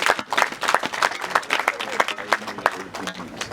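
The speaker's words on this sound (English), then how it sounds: "let's give the president a bigger round of applause" An audience claps for a business chamber president at an annual meeting, a close burst of brisk, uneven clapping that runs throughout with some voices mixed in.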